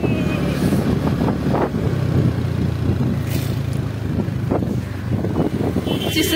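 A scooter being ridden, its engine a steady close droning hum with wind rush against the microphone, continuous and fairly loud throughout.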